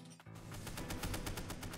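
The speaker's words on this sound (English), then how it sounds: "He's shooting at me!" An enemy shooting at the player in the video game Ender Magnolia: a steady rapid string of sharp, evenly spaced shots, fairly quiet, running continuously under the game's background sound.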